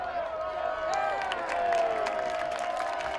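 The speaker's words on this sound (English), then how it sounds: "To the applause of the close to 100 fans below us here today" A small crowd of close to a hundred fans at a women's college soccer match, RPI against Plattsburgh State, applauds and cheers from the stands, a broad, steady wash of clapping and voices at moderate distance.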